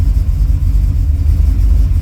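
A carbureted car engine idles low while still cold, a loud, steady, close-up rumble with an even throbbing pulse and no voices.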